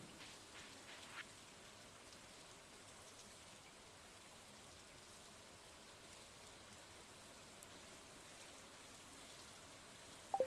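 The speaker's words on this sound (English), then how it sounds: "It's raining today" Steady rain falls in the farming video game Stardew Valley, a soft continuous hiss of drops on surfaces that holds evenly for the whole stretch, with a faint click near the end.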